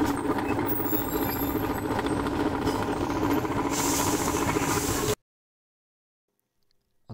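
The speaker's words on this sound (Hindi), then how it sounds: "अगर ड्रायर मशीन से इस तरह का साउंड आ रहा हो तो ये इसकी सील का फ़ॉल्ट होता है" A Haier spin dryer with a faulty spin seal runs with a loud, steady rumbling and grinding drone for about five seconds, then stops abruptly into silence, with a brief word spoken at the very end.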